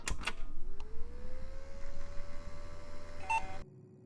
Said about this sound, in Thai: นี่เสียงคอมมึงเหรอ